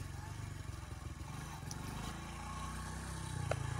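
A motorcycle engine idles in a low, steady rumble at close range while a learner works the clutch, the throb holding even and rising slightly toward the end.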